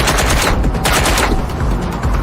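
Rapid automatic gunfire in Watch Dogs Legion on PS5, a dense, loud burst of shots rattling continuously for a couple of seconds with no pause.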